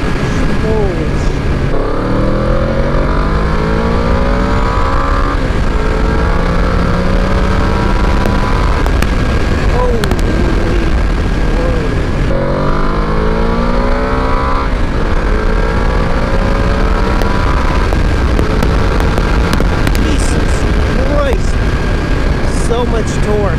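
A Yamaha VMAX motorcycle runs hard at full throttle, its engine note climbing steadily through the gears with a brief drop at each shift, loud and continuous under heavy wind rush.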